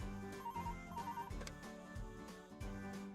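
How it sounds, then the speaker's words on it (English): A work phone rings with a repeating electronic ringtone pattern, fairly loud and clear, layered over background music throughout. "my work phone rang"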